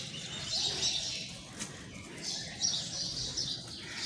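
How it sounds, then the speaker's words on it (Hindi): Many birds chirp and twitter together outdoors, a busy, continuous chorus of high calls at moderate distance over soft ambient noise. "आवाज़ें आ रही हैं चिड़ियों की"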